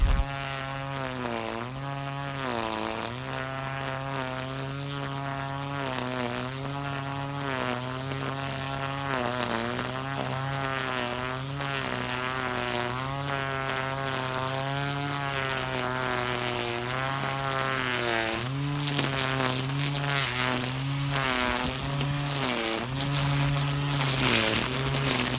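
A Ryobi One Plus P2080 18-volt cordless string trimmer edging a lawn gives a steady, loud electric whine that dips and rises in pitch as the line bites into turf along the edge, continuous throughout.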